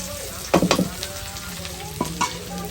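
Garlic sizzling in hot oil as a tempering for a home-cooked Bengali dish, with steady frying hiss, a few brief stirring clatters near the start and another pair toward the end, moderately close.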